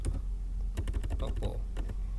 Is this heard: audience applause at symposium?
no